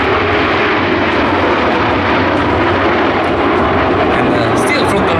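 Frecce Tricolori jets fly an airshow display at Cold Lake, their loud, continuous engine roar filling the air throughout, while a commentator talks over it.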